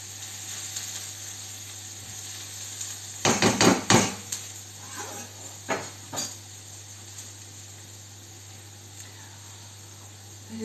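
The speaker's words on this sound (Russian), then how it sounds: "Режу огурцы на салат" A knife cuts cucumbers for a salad: a quick cluster of chops on the board, then a few scattered single cuts, all faint over a steady background hum. No one speaks.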